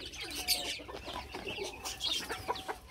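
A Silkie hen clucks and chirps softly and repeatedly at close range, and no other sound competes with it.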